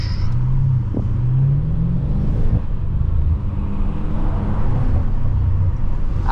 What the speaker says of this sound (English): I'll tell you what, this car sounds good.